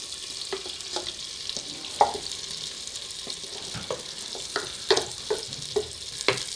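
Onions sizzle in ghee inside a handi for Afghani-style aloo gosht, a soft continuous frying hiss broken by regular light scrapes and taps of a stirring spoon.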